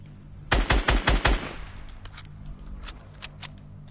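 A quick burst of about five loud gunshots in the video game Fortnite rattles off in rapid succession, followed by scattered fainter shots further away.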